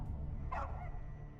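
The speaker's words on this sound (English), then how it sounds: "Dog." A single dog bark in a video game trailer, one short mid-loud yelp standing out over a low background rumble.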